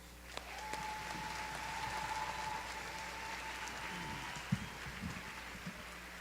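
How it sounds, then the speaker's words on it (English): An audience applauds graduating students at the Merrillville class of 2022 graduation ceremony, a steady, rain-like wash of clapping from a large crowd, moderately faint and distant, with a few sharper nearby claps. "Once again, please applaud these outstanding students."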